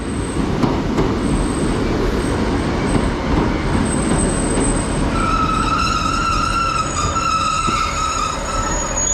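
Loud rumbling train idling at a Lincolnshire station platform, with a high whine and rising screechy tones from wheels or motors, steady and close.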